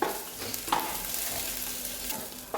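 Crushed ginger stirred in a cooking pot, a quiet steady sizzle with a few soft scraping strokes of the spoon, close by with no talk.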